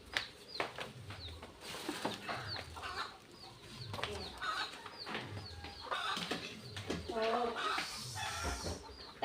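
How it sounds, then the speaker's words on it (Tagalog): Native chickens clucking close by in a Filipino home cooking setting, repeated clucks and calls scattered throughout with some people talking. "Ayun naman mga native na manok."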